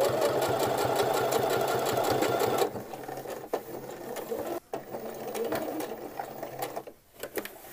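A sewing machine runs steadily for a few seconds while stitching a pocket onto a McCall's 6972 men's shirt, then drops to quieter, intermittent whirring and clicks as the stitching slows.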